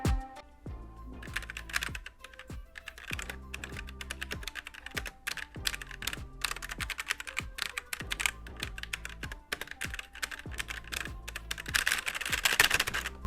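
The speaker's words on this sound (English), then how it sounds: "So this is Cherry MX equivalent red switches, so it is linear." Red Thunder K55 gaming keyboard with linear Cherry MX Red–equivalent switches typed on steadily, producing close, rapid clacky keystrokes with denser bursts toward the end and no talking.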